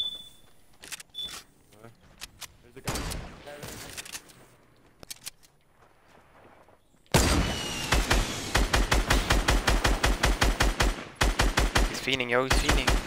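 Video game gunfire: a few scattered shots early on, then a long, loud run of rapid, evenly spaced shots in two bursts near the end.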